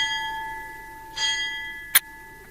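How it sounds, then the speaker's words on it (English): A single bell tolls in a steady sustained ring, with a brief sharp knock near the end over a faint background hum. "The bell invites me."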